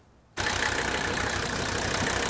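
An old car engine, back after twenty years and already treated with a can of fuel-system purge, idles steadily with a slight miss, starting abruptly after a brief quiet moment and running loud and close without talk.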